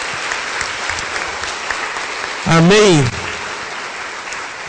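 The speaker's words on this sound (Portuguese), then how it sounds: "E você agora aplaude o Senhor Jesus." A church congregation claps in praise during a worship service, dense and steady applause throughout, while a voice rises in a brief sung or shouted exclamation partway through over the clapping.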